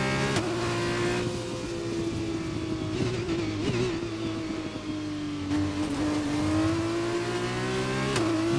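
An F1 race car engine from the F1 2021 video game holds a steady high-pitched drone on track in Barcelona, shifting pitch slightly through corners, loud and continuous with no talk.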